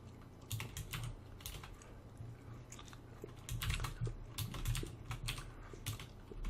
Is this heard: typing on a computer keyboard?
yes